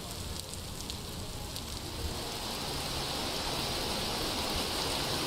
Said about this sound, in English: Oh god, it's hailing!